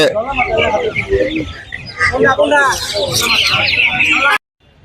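Chickens and ducks cluck and squawk at a busy poultry market, with a constant crowd babble and people talking close by, breaking off abruptly at the end.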